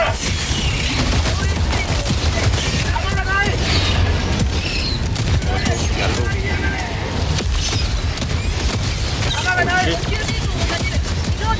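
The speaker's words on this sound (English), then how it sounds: "All I got is this auto cannon." An autocannon fires in a video game battle against bugs in rain, fog and darkness, pounding out dense, continuous rapid bursts with heavy booming impacts throughout, loud and close.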